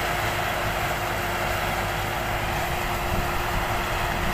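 A six-cylinder tractor engine idles beside a sugarcane harvester in a field, a steady, even rumble with a constant hum and no change in pace, heard alone without talk.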